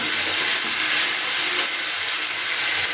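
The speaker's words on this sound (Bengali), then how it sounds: "দিয়ে বেশ করে একটু কষিয়ে নিচ্ছি মশলাটাকে" Spice masala with sauces sizzles in a pan for chilli cauliflower, a loud, steady frying hiss close by and unbroken throughout.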